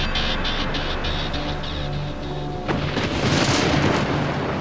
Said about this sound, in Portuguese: Eles navegaram em direção a uma tempestade que parecia muito com essa.